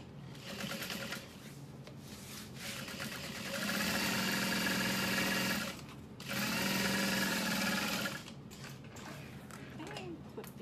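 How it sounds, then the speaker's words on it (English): A sewing machine top stitches a folded seam on a fabric bucket bag, its steady mechanical whir running in two longer bursts separated by a short stop, close and fairly loud. "I'm just gonna fold this over and top stitch"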